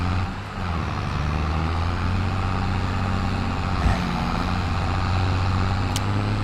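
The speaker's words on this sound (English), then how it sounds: "It's the one tractor I'm happy to be driving." A tractor engine drones steadily while driving, a low continuous rumble with a faint rattle and one brief knock midway, close and constant throughout with no talk.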